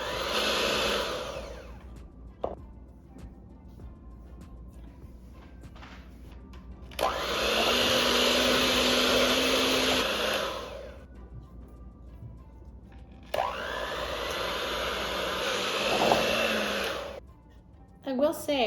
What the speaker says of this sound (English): The thickness of this chocolate frosting is making it challenging for this little mixer to properly combine all the pieces.